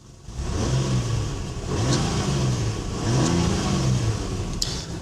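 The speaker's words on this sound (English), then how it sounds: "Just take a quick look at this, revving the engine." A 1998 Nissan Skyline 2.5 GT-X engine revs up repeatedly in three rising-and-falling surges over a steady idle, close by and fairly loud, with no voices.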